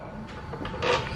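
A toolbox drawer in a garage is handled, giving a few soft sliding clunks with a louder rattle near the end.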